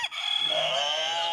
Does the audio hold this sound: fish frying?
no